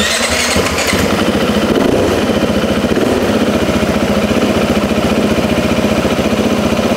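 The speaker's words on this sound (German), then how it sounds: "wir schmeißen jetzt mal den Motor an" A KTM-type sport enduro motorcycle engine revs briefly as it starts, then settles into a steady, loud, rhythmic idle that continues close by.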